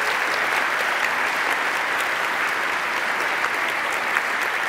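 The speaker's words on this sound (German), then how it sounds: "Lennart Kirchner, dein Applaus" Sustained audience applause at a science slam show, a dense even wash of many hands clapping throughout with no pauses, fairly loud and close, with no voices standing out.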